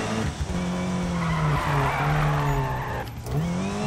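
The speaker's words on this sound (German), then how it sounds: "Also wirklich lange driften tut er aber nicht." A car drifts in the video game Need for Speed (2015), its tires squealing in a long continuous skid over a steady engine drone, loud and close with the pitch sliding down and back up.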